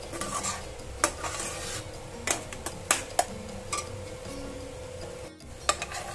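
Spices frying in a pan for paneer tikka masala, with a soft steady sizzle under repeated clinks and scrapes of a spoon stirring against the pan, close and moderately quiet, no talking.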